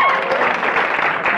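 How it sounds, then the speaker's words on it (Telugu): Brief burst of audience clapping for a girl on a televised student show stage, dense and loud for a moment before fading. "మన అమ్మాయికి ఒక్కసారి క్లాప్స్"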